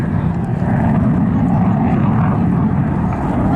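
Saab SK-37 Viggen jet aircraft flying a gentle circuit at a 2019 airshow in Southport, giving a loud, steady, low roar that holds evenly throughout with no talk over it.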